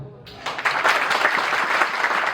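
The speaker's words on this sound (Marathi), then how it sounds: "स्वतःसाठी जोरदार टाळ्या वाजवा" Loud applause from a group at a children's birthday party, starting after a brief quieter moment and continuing as steady, dense clapping close by with some voices mixed in.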